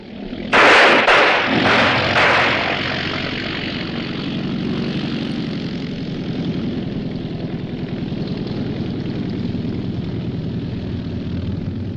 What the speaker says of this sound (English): That's a pickup plane.